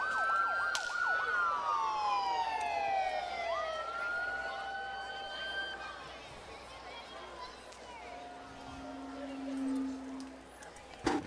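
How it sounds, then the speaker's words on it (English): Wailing sirens sweep up and down in pitch at an Independence Day parade, several overlapping, moderately loud with a faint low hum beneath and background crowd noise. "They're going to be able to hear her with the sirens."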